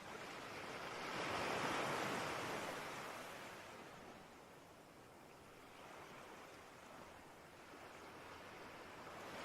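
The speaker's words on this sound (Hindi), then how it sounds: "मेरा चलना और लहरों का उठकर मेरे पैरों पर आना मानो एक खेल चल रहा है" Ocean waves wash onto a beach, a broad rushing surge that swells early, then recedes into a steady softer hiss of surf, with no voices.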